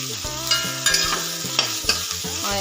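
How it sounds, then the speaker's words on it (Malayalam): Beetroot fries in oil in a pan while a utensil stirs it, giving a loud, close sizzle broken by several distinct scraping knocks against the metal. "അപ്പം ഇത് നമുക്കൊന്ന് ഇളക്കി കൊടുക്കാം."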